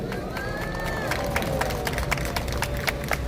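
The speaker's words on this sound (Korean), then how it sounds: "옆에 계신 자랑스러운 애국자들을 향해 박수 한번 보내주십시오" Crowd at an outdoor political rally in Korea marking an anniversary, applauding and cheering in a dense, sustained wash of claps with occasional whistles, heard at a distance under a steady murmur.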